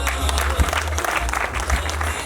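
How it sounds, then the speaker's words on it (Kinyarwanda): Sustained applause from an audience at a lively celebration, dense and steady throughout with a low hum underneath. "namushimye reka mwongere amashyi data"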